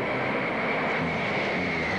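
An airplane's engines power up during a go-around from an approach, giving a steady, loud, continuous roar with a sustained tonal whine running through it and no break.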